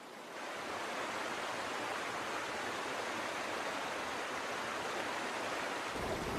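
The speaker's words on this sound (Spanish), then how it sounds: "El torrente fluye a través de los angostos cañones de las montañas, erosionando la tierra." A torrent of water rushing through a narrow mountain canyon, a dense steady roar that stays loud and unbroken from start to finish with no voices.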